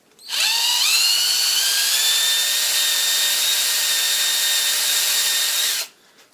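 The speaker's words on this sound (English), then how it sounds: "with the other drill I'll open out that hole to the depth to the first one" A power drill whines steadily for several seconds while opening out a hole, spinning up then holding a high, loud pitch before winding down, close and alone.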